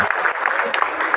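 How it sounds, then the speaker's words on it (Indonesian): Brief, loud burst of crowd clapping at a political gathering with market traders, quick overlapping claps close by, with voices mixed into the noise. "Baik, tepuk tangan buat kita semuanya"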